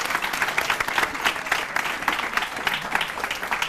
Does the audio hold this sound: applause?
yes